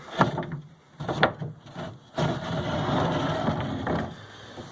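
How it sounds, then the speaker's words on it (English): Handmade barn door style wooden sliding doors on top and bottom slides: a few knocks and wooden rolls, then a longer rumbling slide that fades, heard close and alone. "The doors open, they're on slides. Got the barn door style."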